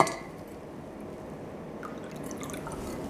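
Water stirred into homemade chalk paint with a brush gives soft wet sloshing and faint drips, a steady close liquid churn with a few brighter clinks toward the end, and no voices.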